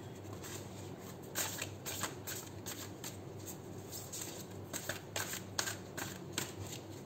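A deck of angel and ancestor oracle cards is shuffled by hand three times, making repeated soft riffling and slapping bursts at close range with no talking.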